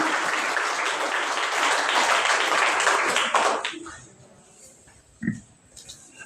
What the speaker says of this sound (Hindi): एक बार जोरदार ताली आप इनके लिए करेंगे